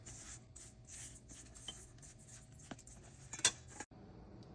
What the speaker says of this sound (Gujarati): હવે આ બધું મિક્સ કરી લેવાનું